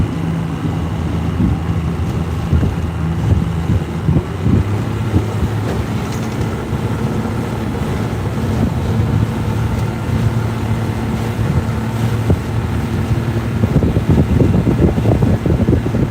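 A motorboat cruising in circles on Lake Texoma, its engine a steady low drone with wind and water rush throughout, close and fairly loud, growing slightly louder near the end.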